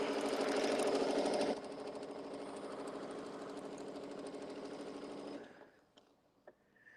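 A sewing machine stitches fabric seams on a quilted winter fan blade piece, a close, rapid whirring chatter that runs faster at first, then steadier, before stopping with a few soft clicks.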